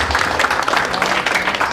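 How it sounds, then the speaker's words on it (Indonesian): Audience applause at an Indonesian stage talk event, a dense steady wash of many hands clapping close by for just under two seconds. "Berikan tepuk tangan yang meriah untuk Kak Virus Aralvin"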